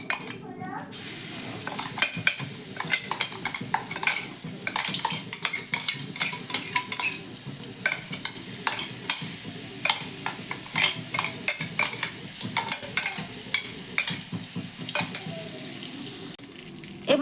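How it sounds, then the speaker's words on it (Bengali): Ground spice paste frying in mustard oil in a pan on a low gas flame, a soft continuous sizzle under repeated scraping and clinking stirs of a spoon against the pan, close and steady throughout, with no talking. "এবার এই মশলাটা ভালো করে নাড়াচাড়া করে ভেজে নেব, গ্যাসের ফ্লেমটা আমি লোতে রেখে।"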